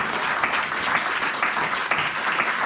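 A church congregation claps together during a sermon, a dense, continuous round of applause with an even, crackling texture throughout.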